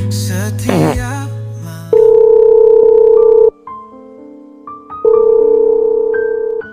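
Telephone line tones from a call that fails to connect to an inactive phone in an Indonesian animated drama: a brief busy sound opens, then two long, loud, steady electronic tones separated by a quieter stretch of shifting beeps.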